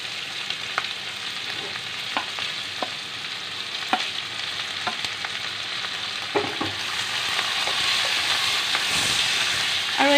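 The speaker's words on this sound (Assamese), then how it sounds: "আৰু এই গোটেইখিনি মই 30 ছেকেণ্ড সময় ফ্ৰাই কৰিম" Chili, bay leaf, ginger and garlic fry in hot oil, with a steady close sizzle that grows slightly louder toward the end. Occasional clicks and stirring scrapes cut through it.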